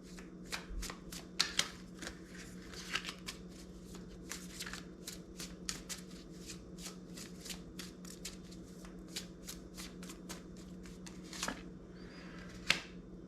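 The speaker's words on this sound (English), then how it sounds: "I'm going to draw some more cards on this" Tarot cards being shuffled by hand, a long run of quick riffling and slapping bursts at a steady rhythm, close and fairly quiet over a low constant hum, with no talking.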